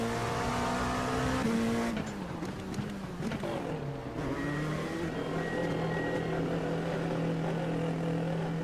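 Race car engines at Imola in iRacing, a loud steady engine drone from the cockpit that drops in pitch as the car slows, then settles into a lower sustained hum.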